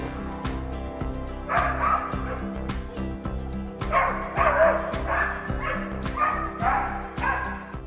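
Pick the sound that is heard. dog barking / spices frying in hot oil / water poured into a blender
dog barking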